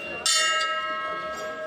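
Royal doorkeepers in special dress at Lahore Fort ring a hand bell at night to welcome guests, one bright close strike ringing out and fading over a steady tonal background.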